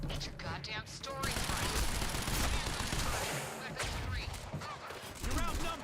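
Sustained rapid gunfire from the video game Quantum Break: dense volleys and bursts of shots fill the whole stretch, loud and continuous, with shouted voices breaking through at moments.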